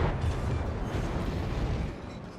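A Yugumo destroyer's torpedo launch in World of Warships comes through as a heavy, rumbling low whoosh and muffled boom that sustains and slowly fades over a couple of seconds.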